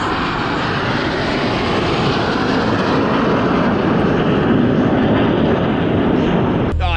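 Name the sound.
airplane flying at air show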